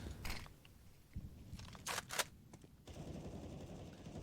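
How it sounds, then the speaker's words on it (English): Counter-Strike gunfire on the Dust 2 map during a competitive esports match: scattered shots and short automatic bursts crack out in clusters, moderately loud, against a busy game background. "Spray in, almost takes out Snakes."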